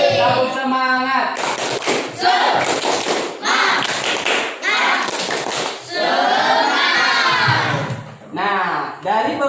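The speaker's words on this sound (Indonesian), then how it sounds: "Tepuk tangan dulu buat kalian semuanya" Sixth-grade schoolchildren in a classroom perform a 'tepuk semangat' clapping chant, loud rhythmic claps mixed with shouted voices in bursts, then a voice speaking briefly.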